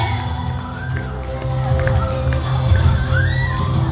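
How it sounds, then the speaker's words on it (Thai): A crowd at a pageant claps and cheers, a short burst of applause with shouting and excited voices over a background of amplified music. "หมายเลข16นางฟ้าลีวันใสขอเสียงตบมือส่งเสย"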